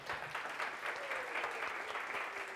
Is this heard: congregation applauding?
yes